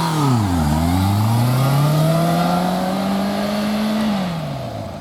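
Motorcycle engine during a straight-line braking drill, revving up sharply, then holding a rising, steady drone before the pitch drops off as the rider lets off near the end.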